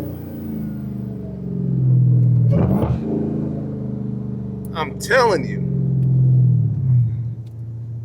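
A supercharged Dodge Charger Hellcat engine tuned to 924 horsepower revs and rumbles with quick gear changes, someone talking over it near the mic.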